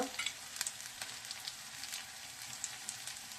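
Carrots fry in a pan for Nepali-style lebi lebi, with a soft, continuous sizzle and occasional small pops. The sound is quiet and close, with no talking.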